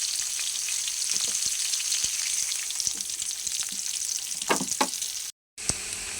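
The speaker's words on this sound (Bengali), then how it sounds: "পেঁয়াজ দিয়ে দিলাম আর একটু তেল দিয়ে দিলাম।" Sliced onion fries in oil in a home cooking pan, giving a steady, close hiss of sizzling with scattered stirring clicks and a brief dropout near the end.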